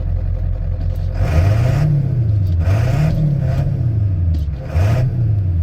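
A 1997 Ford F250 HD 4x4 with the 7.3 diesel revs three or four times in quick succession, each rise and fall of the engine loud and close over a rumbling idle.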